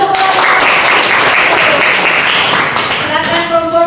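A classroom of students claps for a group presentation in a Christian religion lesson, loud continuous applause with a faint voice and some tonal sounds mixed in near the end.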